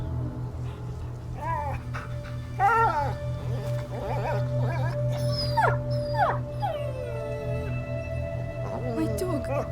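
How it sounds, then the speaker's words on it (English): In the game A Plague Tale: Innocence, a dog whimpers and howls in a series of high, wavering cries over a steady low hum of background game audio. "Oh, I can hear the dog. A little bit crying."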